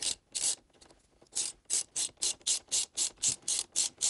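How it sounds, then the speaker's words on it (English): A ratchet with a T50 Torx socket tightens the steering wheel bolt on a 2015-2017 Colorado/Canyon, giving close, crisp clicking bursts, first a few uneven strokes and then a steady rhythm of about a dozen quick ratcheting pulls. "using your T50 Torx socket, thread the bolt back into place and tighten down the steering wheel"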